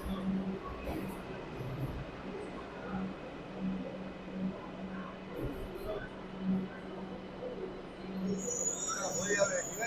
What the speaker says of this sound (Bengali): তো এই যে আমাদের ট্রেন চলে আসছে,